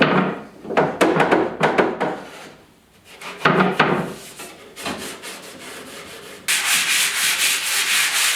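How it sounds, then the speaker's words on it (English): Hand sanding of an old wooden desk top with 280 and 220 grit sandpaper, close and loud rhythmic scratchy strokes in bursts, ending in faster continuous rubbing. "just giving the top a light sand with some 280, and 220 is fine, that works good"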